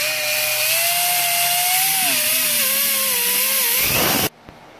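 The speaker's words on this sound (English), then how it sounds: "So I've got my rotary gasket tool, Scotch-Brite type pad on an air tool." An air tool spins a rotary gasket tool fitted with a Scotch-Brite type pad, cleaning a surface with a loud, wavering high whine that drifts in pitch and then cuts off abruptly.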